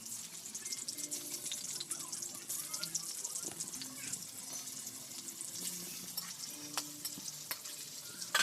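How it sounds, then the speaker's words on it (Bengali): Tengra fish frying in a little oil in a wok, giving a steady close crackling sizzle with scattered pops and a faint clink of a utensil. "আর মাছটা ভাজা হয়ে গেছে, আমি মাছটা এবার ছেড়ে নেব।"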